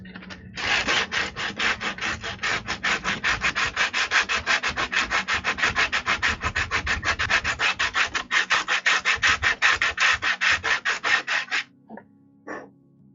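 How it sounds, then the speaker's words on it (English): Wooden penguin figures are sanded by hand in quick, even back-and-forth strokes, dozens of rhythmic raspy rubs in a steady run that stop abruptly, followed by a couple of light knocks. "This is where some advanced sanding is going to have to happen."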